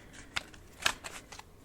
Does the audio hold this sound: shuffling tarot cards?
yes